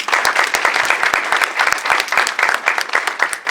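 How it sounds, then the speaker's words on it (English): Lively applause from a crowd at a future leaders mixer, many hands clapping close by with sharp individual claps standing out in a dense, steady wash. "Big round of applause for Lori Antonacci."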